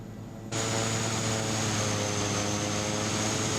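A Cessna SkyCourier twin-turboprop in Microsoft Flight Simulator 2024 cuts in suddenly after half a second of quiet, a loud steady propeller and engine drone with a high whine that holds close and constant to the end.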